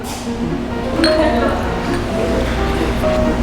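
Drinking glasses clink together in a toast during a solo drinking session with Korean bar snacks, two bright pings about two seconds apart over a busy background of talk and clatter.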